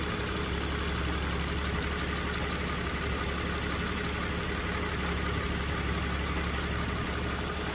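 A BMW E46 with a freshly rebuilt M54 engine idles steadily and evenly at close range, a continuous mechanical hum with faint ticking and no voices.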